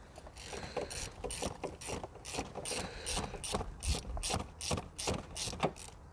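A ratchet tightens a short shifter bolt in a car, clicking in rapid bursts of repeated pawl ticks. The strokes come close and fairly loud and run steadily throughout.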